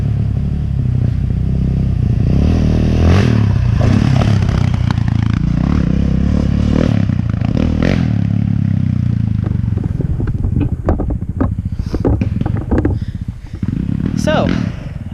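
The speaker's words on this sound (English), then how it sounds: "I can't wait to get this nice clip of him jumping on the Raptor for the first time" Raptor ATV ridden and jumped at night, engine revving and bursting loudly with clattering and scraping impacts, while people shout and talk over it throughout.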